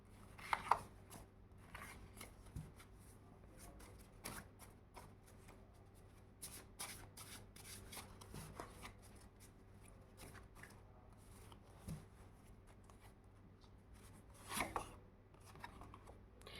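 Cards are shuffled for a card reading, a quiet, close series of papery riffles and flicks that come in irregular bursts with soft gaps between them.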